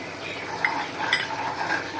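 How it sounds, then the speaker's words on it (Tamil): Tomatoes and pepper powder being stirred in a pan for a pepper tomato kuzhambu, a continuous soft scraping and light sizzle up close, with a faint clink of the utensil. "மண் தக்காளி சேர்த்து நல்லா கிண்டிக்கலாம்"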